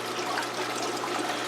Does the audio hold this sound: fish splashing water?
yes